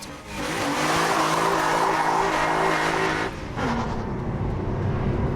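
A Ginetta G60 sports car engine roars loudly and roughly at steady high revs, with tyres squealing over it, then the pitch drops briefly and climbs again.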